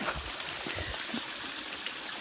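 Mountain spring water runs from a tapped source, a soft continuous trickle and gush heard close but faint, with no voices.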